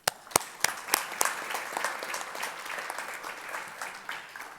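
Applause from an audience at a high school FFA awards banquet, opening with a few sharp individual claps and swelling into steady, moderately close clapping from a modest crowd that continues evenly throughout.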